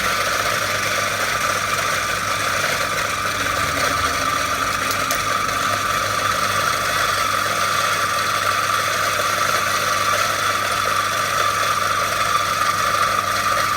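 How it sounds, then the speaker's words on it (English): A coffee grinder grinds beans for espresso, producing a loud, continuous whirring drone that stays steady and unbroken throughout, with no talking. "I use a fork to break up the clumps as they fall down from the grinder."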